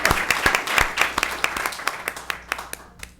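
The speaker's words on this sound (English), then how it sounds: "Definitely worthy of applause." A room of people claps for a high school NJROTC team at a city council meeting, a short burst of applause that starts dense and thins to scattered claps as it dies away.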